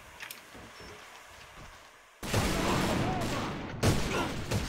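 Gunfire in the shooter game A.V.A Global starts as faint scattered pops, then bursts into a loud sustained barrage of rapid shots with a sharp blast near the end.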